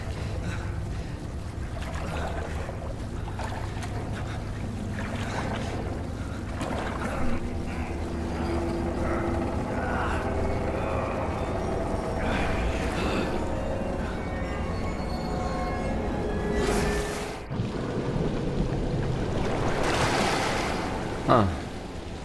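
Water and waves wash and slosh in the video game The Evil Within, a broad churning rush with swells and splashes that runs throughout under a game soundtrack, with a sharp break near the end.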